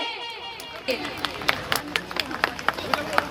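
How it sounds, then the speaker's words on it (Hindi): An audience at a Maharaja Agrasen Jayanti celebration in Rampur Maniharan breaks into applause. Scattered sharp claps start after a moment and grow steadily over a low crowd murmur. "तालियों की गड़गड़ाहट रुकनी नहीं चाहिए।"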